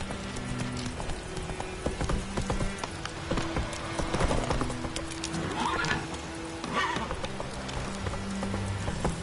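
Hooves of Geralt's horse Roach pound steadily in a continuous gallop through The Witcher 3, with an occasional whinny rising over a bed of game music and ambience.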